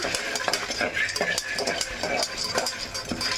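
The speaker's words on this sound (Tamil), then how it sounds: "இதை போட்டு நல்லா வறுத்துக்கலாம்" Chickpeas (kadalai) dry-roasting in a pan, heard as a dense close rattling and scraping of stirring with a hissy sizzle underneath, continuous and fairly loud.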